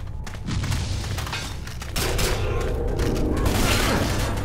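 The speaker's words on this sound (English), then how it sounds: "Unless you want to be picking your teeth up off the floor, stop shooting me." Heavy, continuous gunfire in the zombie shooter Left 4 Dead 2 as teammates fire dense, rapid, booming rounds, loud and close throughout, with a brief speaking voice at the start.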